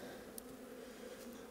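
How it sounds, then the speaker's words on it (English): Honey bees buzz steadily inside a nuc box during a winter hive inspection, a continuous mid-pitched hum that stays faint and even throughout, with a brief tick partway through. "lots of beautiful bees"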